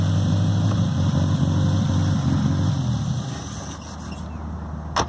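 A Volkswagen Gol car engine idles nearby, a steady low rumble that runs throughout and eases slightly toward the end.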